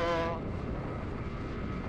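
A Honda Winner X motorcycle engine cruises at about 100, a steady low drone mixed with dense wind rush, loud and continuous, with a voice heard briefly at the start.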